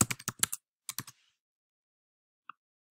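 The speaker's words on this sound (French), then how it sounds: "Vous allez ensuite taper le texte désiré." Quick bursts of computer keyboard typing, a brisk cluster of close, crisp keystrokes followed by a short pause, a few more taps, then a single faint click after silence.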